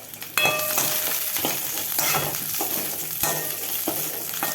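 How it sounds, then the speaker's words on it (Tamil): Onion sautéing for sambar, a loud, close, steady sizzle that starts abruptly and continues with scattered stirring clinks of a utensil against the pan. "இப்போ இந்த வெங்காயம் வதக்குறேன்"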